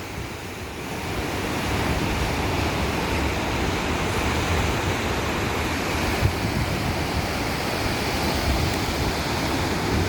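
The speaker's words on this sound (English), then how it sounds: "Look at these waves." Ocean surf rolls in around 6 p.m., a steady, fairly loud wash of breaking waves with wind noise across the microphone and no voices.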